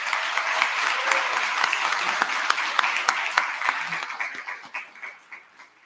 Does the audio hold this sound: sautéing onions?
no